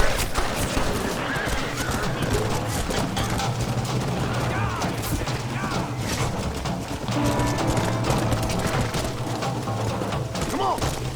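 In the Red Dead Redemption video game, horses whinny and hooves clatter amid a dense, busy mix of action noise with booms, and the scene stays loud throughout.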